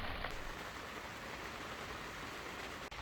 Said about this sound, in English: Cold rain.